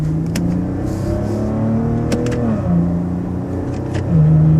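Maserati Ghibli S Q4 engine revving quickly through paddle-shifted gear changes, a steady loud interior drone with distinct pitch steps at each shift and a final rise in revs.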